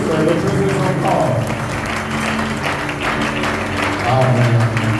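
Church congregation applauding and cheering during a worship service, a steady dense wash of clapping and crowd noise with voices mixed in throughout.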